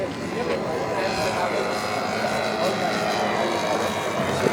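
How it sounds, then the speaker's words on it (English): A Luscombe model airplane, a tail-dragger, makes a flyby at a Golden Age model airshow, its engine a steady broadband drone at moderate distance that holds level throughout. "Luscombe's doing a nice flyby here."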